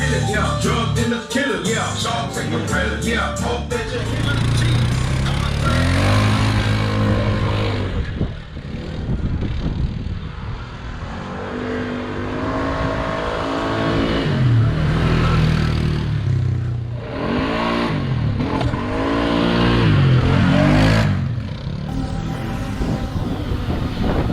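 Polaris Sportsman 570 ATV with a 2-inch lift and stock clutch, engine idling and revving up in surges near the microphone, with a brief dip midway and a short spoken comment.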